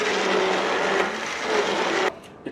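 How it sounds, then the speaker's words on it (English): An immersion blender whirs steadily through a pot of cooked cherry rum BBQ sauce, a loud, even motor drone that cuts off abruptly near the end, followed by a small clunk. "It took about a minute and a half with the immersion blender there"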